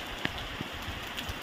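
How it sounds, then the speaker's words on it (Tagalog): Rain falling outdoors while someone works on cutting a coconut tree, a steady wash of drops with scattered louder plinks and taps and no voices. "pinaputan tayo ng ulan mga kamotor."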